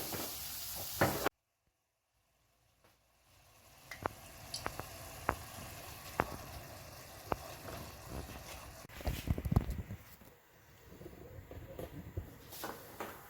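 Chopped onion frying in a pot for a light rice soup, a steady soft sizzle with occasional crackles and stirring scrapes, briefly cut to silence before the sizzle returns.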